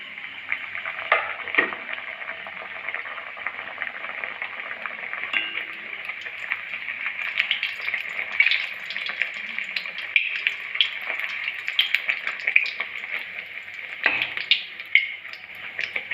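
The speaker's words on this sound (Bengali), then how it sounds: "তেলটা গরম হয়ে গেছে আমি এবার ভেজে নেব" Palm-flavoured luchi flatbread fries in hot oil in a wok, making a close, continuous bubbling sizzle with a few small clinks.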